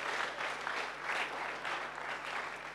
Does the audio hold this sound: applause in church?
yes